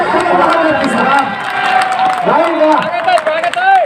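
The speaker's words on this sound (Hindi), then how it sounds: "सब लोग तालियां" A lively crowd at a comic poetry fair cheering and shouting with clapping mixed in, loud and close, voices rising and falling throughout.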